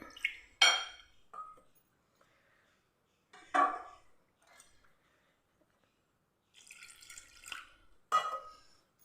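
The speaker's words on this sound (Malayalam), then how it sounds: "ഇനി നമുക്കിതിലേക്ക് വെള്ളം ഒഴിച്ചിട്ട് നല്ലപോലെ നമുക്കൊന്ന് കലക്കിയെടുക്കാം" Water is poured into a bowl of maida and coconut batter, which is then stirred for a snack. Short, separate bursts of splashing, clinking and scraping against the bowl come and go, quiet, with silent gaps between them.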